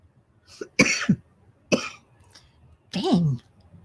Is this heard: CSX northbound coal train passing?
no